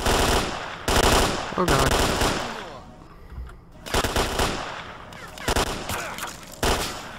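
Bursts of automatic gunfire in the shooter game STALKER: Clear Sky, loud and close, repeated volleys broken by short pauses, with a player's voice briefly over the shooting.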